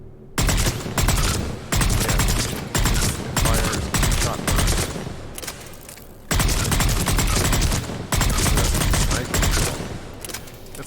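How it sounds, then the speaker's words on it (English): Bursts of fire from the Valkyrie assault rifle in the Mass Effect 3 video game, a rapid series of loud, close shot clusters repeating with short pauses between bursts. "The Valkyrie is a pretty fun assault rifle to use. I like using it. Yeah. It fires shot burst."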